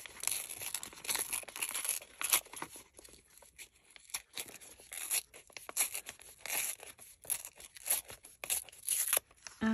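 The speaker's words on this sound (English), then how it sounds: "now what I'm going to do is I am going to rip" Paper being torn by hand along a line, a continuous run of close, crisp ripping and crinkling with short pauses, no voices.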